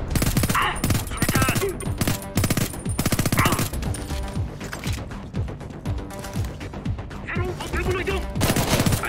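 Rapid automatic gunfire from the Homefront: The Revolution video game, loud and close, with dense bursts and repeated shots plus mechanical reloading clatter, and a voice speaking in places under the shooting.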